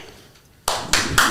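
After a near-silent moment, a few people clap in a short burst, three sharp bright claps building into brief applause close by.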